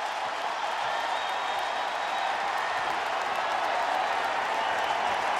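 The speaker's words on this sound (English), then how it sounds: "the crowd's going nuts" A baseball crowd at a 2007 Phillies home game against the Nationals roars and applauds after a two-run double, a steady, distant wash of cheering and clapping with no break.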